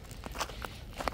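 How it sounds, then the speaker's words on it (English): Footsteps crunching and breaking ice on snowy ground, a few uneven crisp cracks close by over faint outdoor background. "This is the sound of ice being broken."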